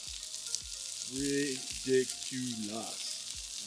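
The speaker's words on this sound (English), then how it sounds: "Now it's time to get the bacon on top." Bacon frying on a Blackstone griddle, a faint steady sizzle running under voices talking over the cooking.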